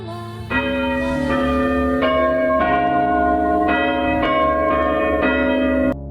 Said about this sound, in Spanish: Después sonó la campana de salida.